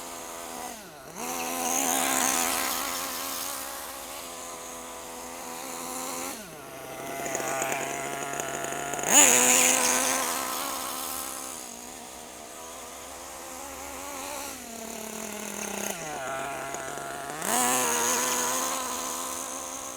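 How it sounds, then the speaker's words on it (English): The small nitro engine of a Kyosho USA-1 RC monster truck buzzes as it warms up, revving in repeated high-pitched rising and falling surges with brief dips back to a rough idle, loud and close. "Just want to get the engine warmed up."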